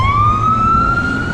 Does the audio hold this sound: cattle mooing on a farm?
no